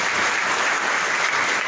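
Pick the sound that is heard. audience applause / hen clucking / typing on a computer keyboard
audience applause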